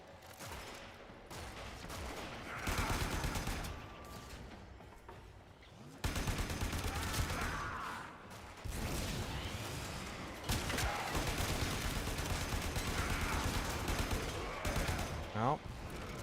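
Rapid, continuous gunfire from the video game Warframe rattles throughout, with bursts and impacts layered dense and loud, while a voice talks at times over the shooting.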